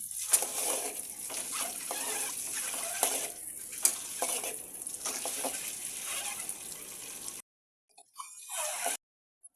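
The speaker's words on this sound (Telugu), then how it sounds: "ఇదిగోండి గుడ్లే వేపేసుకున్నాను" Eggs frying in oil in a pan for a Telugu-style egg curry, a steady broadband sizzle that runs close and continuous before cutting out, then a brief second burst of frying.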